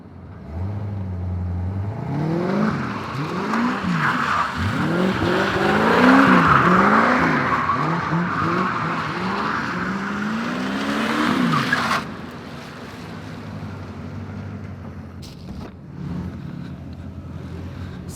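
A C4 Corvette's engine, a barn find that sat for a decade, roars and revs repeatedly while drifting, tires squealing in long wavering screeches, building in loudness, then cutting off to a quieter rumble.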